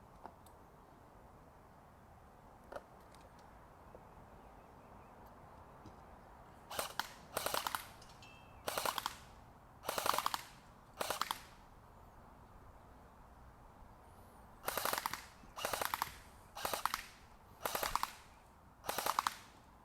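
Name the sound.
CYMA 048 AKM airsoft rifle firing on full auto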